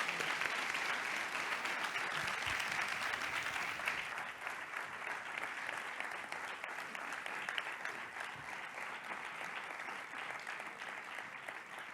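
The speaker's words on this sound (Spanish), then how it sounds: "Un fuerte aplauso para Emaús." Warm, sustained applause from an audience at a Basque awards ceremony, honouring the Emaús organisation, dense clapping holding steady for about twelve seconds and easing slightly in the second half.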